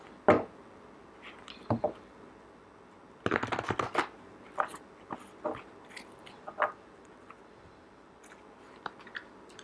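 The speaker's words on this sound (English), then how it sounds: "So while I'm shuffling" Tarot cards are shuffled in quick crisp riffling bursts, a dense flurry in the middle and scattered taps and flicks around it, close and otherwise quiet.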